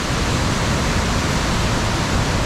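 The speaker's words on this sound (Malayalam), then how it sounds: "ഇഷ്ടം പോലെ വെള്ളമാണ് വന്ന് ചാടുന്നത് കേട്ടോ" A waterfall at Munnar pours heavily down over rocks, a loud, dense, unbroken roar of rushing water that holds steady throughout with no other sounds.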